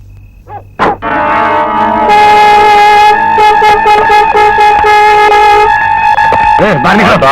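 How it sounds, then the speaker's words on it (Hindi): A loud, sustained car horn blares for several seconds, with a brief thump just before it and a voice breaking in near the end. "हॉर्न बज गया"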